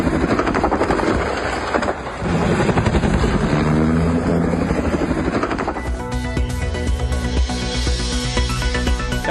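Helicopter in Utah, USA, heard close and loud with a dense throbbing rotor roar, the tone shifting partway through as the machine changes pitch, with no talk.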